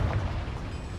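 A Confringo blasting spell explodes in the Hogwarts Legacy video game inside a mine, a brief heavy boom with a deep rumbling tail.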